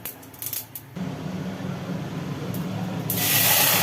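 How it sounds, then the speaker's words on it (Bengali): Mango and boiled red lentils tipped into hot oil in a small flat kitchen burst into a loud, rising hiss of frying that keeps building, with faint clatter before it. "এইবার ওর মধ্যে ঢেলে দেওয়া হলো আম আর সেদ্ধ করা মুসুর ডাল, তার মানে সাঁতলানো"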